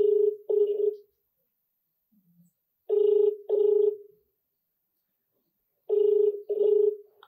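An outgoing phone call rings unanswered: three double-burst ringback tones, evenly spaced about three seconds apart, sound clear and close with silence between them and only a faint murmur in one gap.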